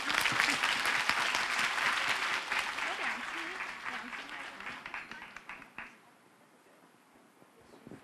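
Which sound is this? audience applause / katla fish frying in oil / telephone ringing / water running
audience applause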